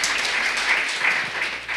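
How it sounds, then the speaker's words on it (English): An audience at a talk on mentoring teenagers claps in a steady, moderately loud round of applause that fills the short stretch and then begins to fade. "Thank you so much. Let us clap for him."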